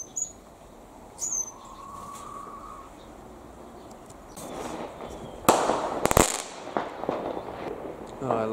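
Guy Fawkes fireworks burst near an outdoor aviary, a few sharp loud cracks followed by crackling and popping, while small birds chirp faintly in the background.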